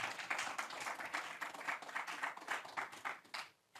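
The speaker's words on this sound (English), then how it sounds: "Men and brethren, clap." An audience at a traders' workshop claps together in a sustained round of applause that stays fairly even before tapering off near the end.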